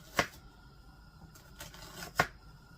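A knife cutting through kielbasa sausage on a board, with a few sharp separate chopping knocks, a couple of them louder, spaced apart with quiet between.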